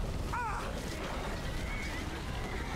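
A horse in the video game Skyrim whinnies once, briefly and fairly near, over a dense, noisy game background with no talk.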